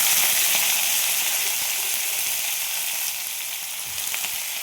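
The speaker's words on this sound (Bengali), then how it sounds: "পালং শীষ, আলু, বেগুন, কুমড়ো, এগুলো আমি এখন তেলের মধ্যে দেবো।" Spinach stems, potato, eggplant and pumpkin pieces fry in hot oil for spinach chorchori, giving a dense, loud, continuous sizzle that eases slightly toward the end, with no speech.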